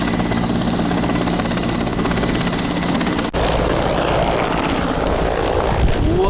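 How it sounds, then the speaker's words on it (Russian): A helicopter sets down in snow in minus 30 cold in the Komi Republic, its rotor and turbine roaring loudly and steadily up close, with no pause for the whole stretch. "Вертолет садится."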